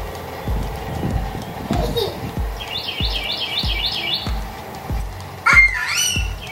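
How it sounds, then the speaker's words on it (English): A bird calls outdoors in a few short chirps and a warbling, rising phrase, moderately close, over steady rhythmic thumping and low background noise. "You hear the bird? Listen."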